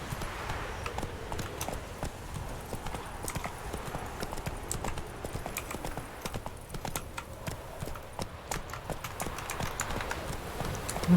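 Horse hooves clip-clopping in the video game The Witcher 3: Wild Hunt, a quiet, steady trotting rhythm that continues throughout the clip.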